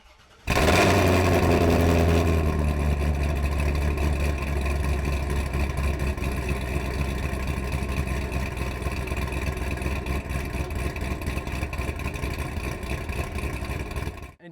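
A 2006 C6 Corvette's exhaust, miked right at the tailpipe, starts up with a sudden loud burst and settles into a steady, deep, rumbling idle that holds strong and close for the whole stretch, with no talking.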